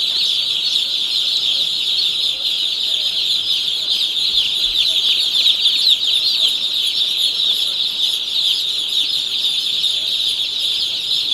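A flock of chickens and young chicks roams free in a farm shed, making a dense, continuous high peeping and clucking that stays even and fairly loud from start to finish.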